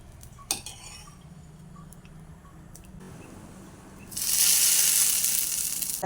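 Green gram dosa batter hitting a hot pan, a few clinks of utensils first, then a loud, steady hissing sizzle rising sharply and continuing to the end.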